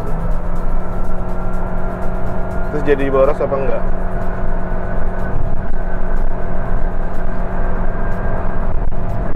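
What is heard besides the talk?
Toyota Yaris Cross HEV car driving at high speed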